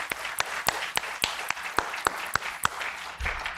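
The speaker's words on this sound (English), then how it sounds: "give yourselves one more big round of applause for coming out in this weather" Conference audience applauding, a loose scatter of individual claps with sharp, roughly regular beats over a soft wash of hands, fairly close and steady for a few seconds.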